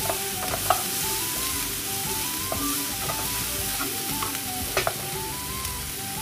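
Onion and carrot sizzle steadily in a hot pan while being stir-fried, with a continuous frying hiss and the occasional scrape and clack of a spatula against the pan.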